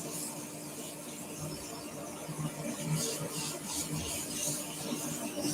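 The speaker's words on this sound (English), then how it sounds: "That's why I'm not going too rough with the sandpaper." Sandpaper rubbing a spinning wooden wand on a lathe, a soft continuous hiss with faint squeaky scratching, fairly quiet and close, with no voices.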